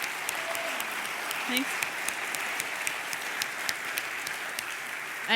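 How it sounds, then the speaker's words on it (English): Church congregation applauding the ladies at a Mother's Day service, a steady spread of clapping throughout with scattered sharper claps and a brief spoken word in the middle. "let's give these ladies another round of applause"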